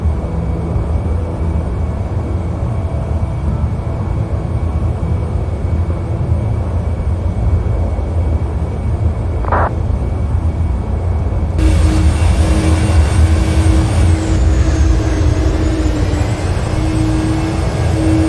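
An airliner taxiing in Microsoft Flight Simulator X, a steady loud jet engine rumble and whine that holds throughout, with a brief rising tone midway and a shift to a higher, brighter engine hum in the second half.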